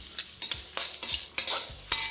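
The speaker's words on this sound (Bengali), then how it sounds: "তারপর সেটাকেও এরই সাথে ভালো করে ভেজে নিন" Mixed vegetables and spring onion whites fry over a low flame in a pan, steady sizzling broken by repeated sharp scrapes of stirring at an irregular rhythm, close and clear with no talk.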